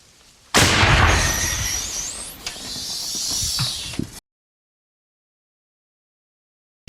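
An artillery gun fires: a sudden loud blast followed by a long hissing, rushing decay and a few crackles, then abrupt silence.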